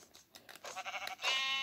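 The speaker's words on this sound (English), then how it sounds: "We found 4 sheep." Sheep in the Minecraft video game bleat in a short burst of several wavering cries, fairly close and clear, with no talk over them.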